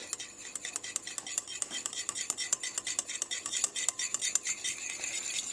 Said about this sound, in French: J'en mélange une partie avec le yaourt.